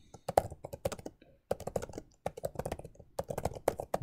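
Fast, close typing of code on a computer keyboard, with dense irregular clicks of individual keys in quick runs and a couple of brief pauses.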